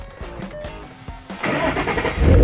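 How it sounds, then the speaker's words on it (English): Ford Mustang 5.0 V8 running on E85 starting up: several quick cranking pulses, then the engine catches and settles into a loud, rumbling idle close by. "So let me fire the Mustang up real quick."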